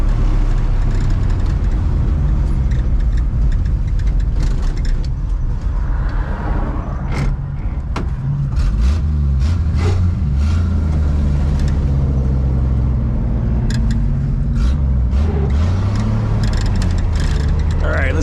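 A 1960 Plymouth in need of a tune-up rumbles steadily from inside the car on a test drive, its loud low engine drone continuous throughout, with occasional talk from the occupants over it.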